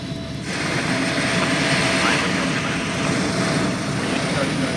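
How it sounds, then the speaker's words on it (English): The four large Allison turboprop engines of a P-3 Orion maritime patrol aircraft give a loud, steady droning roar that fills the background while a narrator speaks over it. "The 4 large Allison turboprops found on the Orion are the same engines used to power the Air Force's C-130 Hercules"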